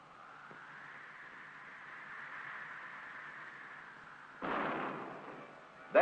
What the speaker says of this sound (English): exploding bolts fire and the escape tower pulls free